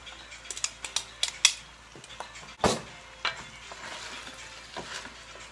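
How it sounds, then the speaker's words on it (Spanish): Onion and chicken frying in a pot give a soft, low sizzle, broken by a series of sharp spoon clinks and scrapes against the metal and one louder clatter partway through. "incorporar la cebolla."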